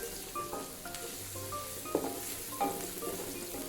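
Garlic ginger paste fries with half-cooked onions in a pan, giving a steady sizzle with scraping stirs and occasional utensil clinks.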